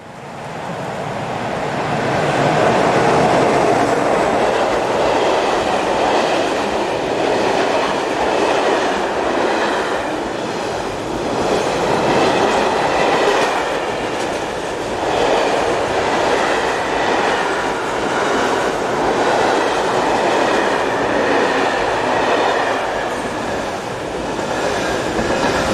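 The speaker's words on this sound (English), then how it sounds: "140-640 approaches with the southbound freight." A Class 140 electric locomotive hauls a southbound freight train along a German main line beside the Rhine, a loud, sustained rumble of wheels and wagons rolling steadily past nearby, with rhythmic clatter throughout.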